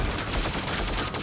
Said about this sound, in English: Someone's taking shots!